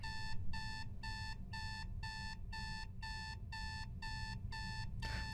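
A repeating electronic alarm beeps in steady regular bursts, about ten short tones in a row, loud and insistent over a low background rumble in a home.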